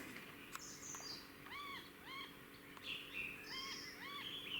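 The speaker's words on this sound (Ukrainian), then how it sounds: "Якісь птички чи чайки." Small birds or seagulls call in a series of short, repeated, slightly hoarse cries, some spaced apart and some overlapping, at moderate distance outdoors by water, over a steady low background hum with no talk.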